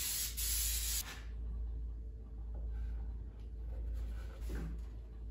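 A short hiss of CA glue activator sprayed from a can onto a woodworking glue-up, one brief close burst followed by quiet handling noises.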